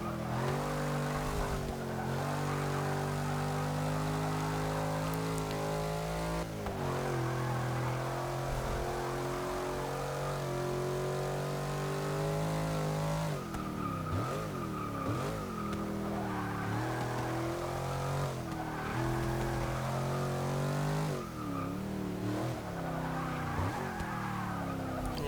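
Engine of a 2014 Jeep Grand Cherokee SRT in Forza 6, droning steadily and revving through gear changes for the whole stretch, with tire squeal and skidding as it understeers through corners; no voices.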